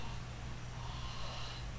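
A voice imitates the noisy, snoring-like breathing of an upper airway obstruction, a faint rasping snort sustained evenly without talk.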